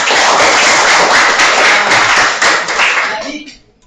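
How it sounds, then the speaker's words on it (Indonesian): A classroom of students applauds together, dense steady clapping that holds loud for about three seconds before fading out, with some voices mixed in. "tepuk tangan dulu untuk semuanya"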